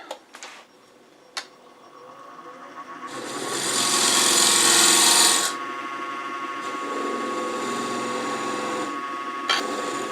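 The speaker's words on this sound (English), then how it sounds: "So I'm going to part it off right here." A wooden handbell ornament being parted off on a woodturning lathe with the spindle gouge: a few sharp taps, then a loud rising scrape that peaks and settles into a steady, close whir.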